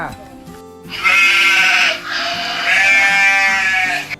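Sheep on a farm stay bleating at feeding time: two long, loud, wavering bleats close by, the second drawn out for over a second.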